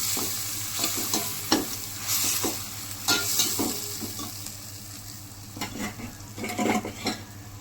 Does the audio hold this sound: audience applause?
no